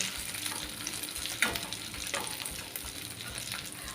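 Stuffed green chillies fry in a pan with very little oil, giving a steady close sizzle broken by a few scraping stirs as they are turned.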